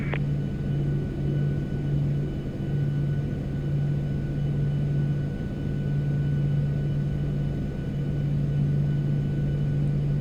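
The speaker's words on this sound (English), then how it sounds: "Yeah, the engine sounds just... they sound brilliant." Engines of a PMDG 737-800 in Microsoft Flight Simulator hum with a steady, low, even drone that holds constant throughout, with no talk over it.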